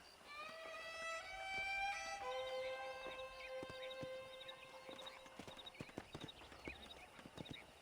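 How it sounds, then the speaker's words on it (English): A pack of wild horses in Red Dead Redemption gallops with rapid clip-clopping hooves while several horses whinny and neigh loudly over them, the neighs overlapping early and the hoofbeats continuing throughout. "there's a pack of wild horses nearby"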